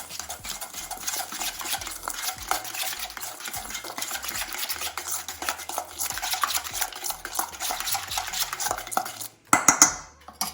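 Chili powder is stirred into an onion and paneer curry in a pan, with a spoon scraping and clinking against metal in a steady, busy rhythm close up, ending in a few louder knocks.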